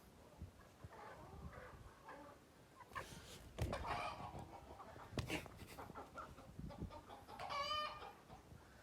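Backyard chickens cluck in scattered bursts, one bird louder and more agitated than the rest, with sharp squawks and a drawn-out call near the end over a quiet background.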